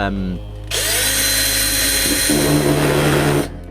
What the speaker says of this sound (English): you've got to drill the hole in the back so we can get the screw in it